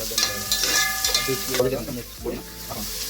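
Onions and fennel sizzle in a hot pan as a spoon stirs them, a steady frying hiss with scraping strokes close by and a voice speaking over it.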